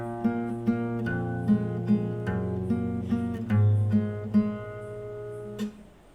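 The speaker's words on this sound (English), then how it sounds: "Now we will add the bass notes to our melody." Fingerstyle guitar plays a melody with low bass notes added underneath, plucked close and clear in a steady rhythm, unaccompanied and without voices.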